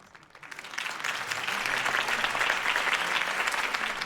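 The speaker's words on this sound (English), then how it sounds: "could have heard that applause" Applause in Batman: The Telltale Series swells from quiet and builds into sustained clapping from a crowd at a campaign speech, holding steady to the end.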